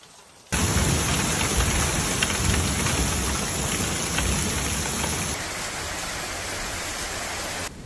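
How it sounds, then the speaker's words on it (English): A thunderstorm in Tampa pours steady, heavy rain that fills the whole clip as a dense, even roar, while thunder rumbles low beneath it. No voices are heard. "As the system moved inland, the storms gained strength, bringing with them dangerous lightning and hail."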